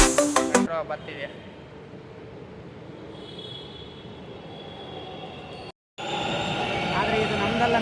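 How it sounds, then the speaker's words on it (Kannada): A metro train arrives at a station in Chickpete, Bangalore: a string of chime-like pulses opens, then a steady rumbling, squealing roll of rail cars carries on, with voices faint in the background. "ಮೆಟ್ರೋ ಬರ್ತಿದೆ."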